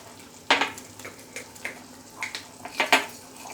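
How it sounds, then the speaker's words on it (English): Spices spit and crackle in hot ghee in a pan for a spinach and pea curry, with a soft sizzle broken by sharp pops and utensil clinks at irregular intervals. "that tempering we'll be doing with the clarified butter or ghee."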